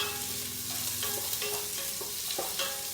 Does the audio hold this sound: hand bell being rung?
no